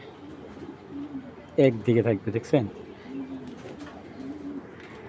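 Racing pigeons coo softly and low in a few short calls spread across the stretch, while someone speaks briefly in the middle.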